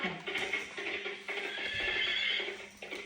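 A toy horse whinnies repeatedly over steady electronic clip-clop hoofbeats, bright and close, continuing without pause.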